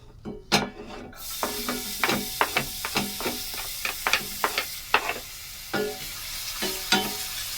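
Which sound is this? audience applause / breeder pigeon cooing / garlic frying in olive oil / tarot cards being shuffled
garlic frying in olive oil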